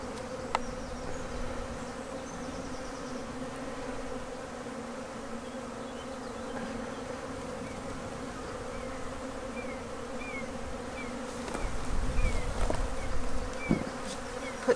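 A steady, close drone of honeybees fills a hive after they have drunk their syrup feed, with a few louder rustles and knocks near the end as the lid is handled.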